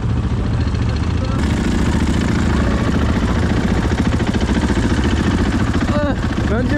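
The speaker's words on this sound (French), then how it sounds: "Les moteurs vrombissent" Motorcycle engines idle and rev on a road in Morocco, a continuous loud rumbling drone with rising throttle surges, heard under a voice talking.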